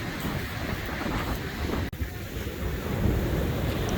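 Pacific Ocean surf rolling and crashing near a sea cave at Ruby Beach, a loud continuous roar buffeted by wind noise, with a brief dropout midway and the surge building toward the end.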